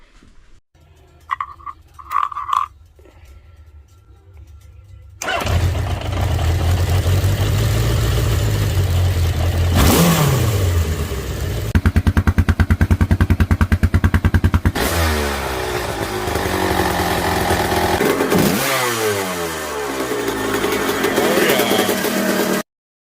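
Yamaha XS 650 motorcycle engine coughing to life after a few faint clicks, then a loud, close, lumpy idle with repeated throttle blips rising and falling in pitch.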